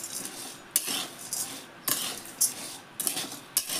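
Chana dal roasts in a pan under repeated scraping strokes of a spoon stirring it, about five rhythmic bursts of rasping, clinking metal against the pan, close and clear.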